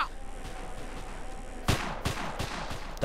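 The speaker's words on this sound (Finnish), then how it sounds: "Nää ampuu mut!" Gunfire aimed at the player in GTA San Andreas crackles as a rapid series of sharp bangs over steady game background noise, moderately loud, with no talking.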